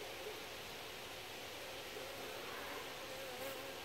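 Honeybees buzz softly in a continuous drone around a hive, guard bees at the entrance, a faint, steady hum with occasional louder passes close by.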